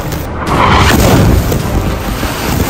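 A loud, deep boom from a missile explosion in Gaza swells into a sustained roaring rumble that fills the clip, with no voices.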